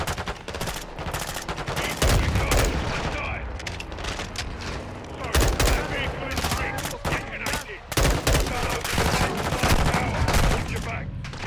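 Heavy automatic gunfire rattles in long bursts while mowing down enemies in Call of Duty Modern Warfare II, punctuated by loud booming blasts, dense and close, with voices talking intermittently underneath.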